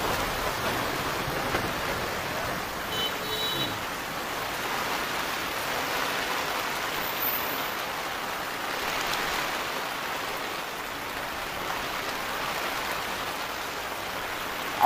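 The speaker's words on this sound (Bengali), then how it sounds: "আর এই সকাল থেকেই অজন্য এনে বৃষ্টি, যেন আকাশ ফুটো হয়ে গেছে" Heavy rain falls steadily over Kakdwip under dark clouds, a uniform broad hiss that holds at an even level throughout with no voices.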